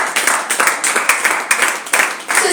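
Congregation in a church applauding, a steady burst of many hands clapping together in a fairly loud, even patter with voices faintly mixed in.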